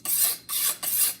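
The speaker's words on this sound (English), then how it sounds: "I'm gonna show you how I'm sharpening my knife." A knife is sharpened with three quick, rhythmic rasping strokes, close and crisp, each about a third of a second long, with no talking.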